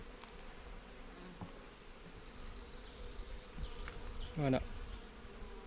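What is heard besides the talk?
bees buzzing around honey syrup at a swarm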